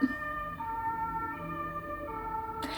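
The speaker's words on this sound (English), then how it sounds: "A siren interrupted our conversation again." An emergency siren wails outside, a steady tonal whine with a shifting pitch that holds throughout at moderate distance, ending in a brief noisy burst.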